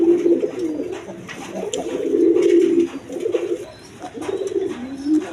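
Running pigeons at a market coo steadily and close by, a string of low throaty coos in repeated phrases with no talk over them.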